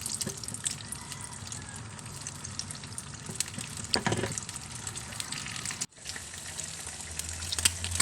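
An egg frying in a pan for a sandwich, with steady sizzling and spattering, a louder burst partway through, a brief drop-out, and then the frying carries on.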